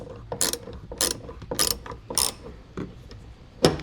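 Socket wrench ratcheting on a 10mm socket during work on a 2022 Jeep JL, with a series of sharp, close clicking bursts in an uneven rhythm, roughly seven strokes, with no talking.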